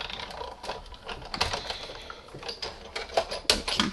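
A manual die-cutting machine rolls cutting plates through for a Still Scenes snow globe card, giving a rapid run of clacking, ratcheting clicks at moderate volume close by.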